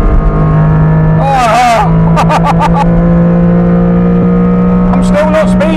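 A 1992 Honda Beat with individual throttle bodies behind the cabin hums steadily from inside the car, with rising revs and squeaky tonal bursts, while a voice talks over it.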